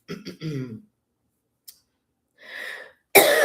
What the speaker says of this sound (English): I just start coughing out the blue.